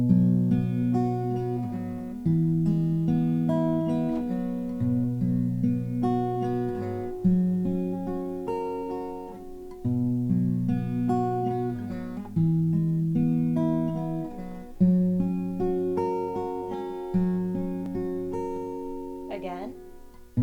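Acoustic guitar plays Amazing Grace fingerstyle, an easy three-chord arrangement with plucked bass notes and ringing arpeggiated strings in a steady, gentle waltz rhythm, heard alone and clearly throughout.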